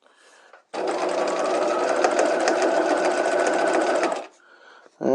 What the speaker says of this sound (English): now we can go ahead and stitch these on. Back tack, beginning and end